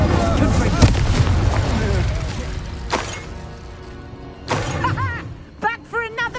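Confringo blasting curse explosions in Hogwarts Legacy, heavy booming blasts with crackling debris, followed by sharper impact bursts, mixed with a voice talking throughout.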